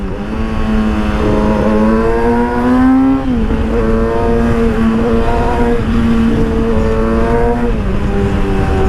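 A Yamaha R6 sport motorcycle with its silencer removed revs hard and loud up close, its raw, rasping engine note climbing in pitch and then dropping back, again and again, with no voices.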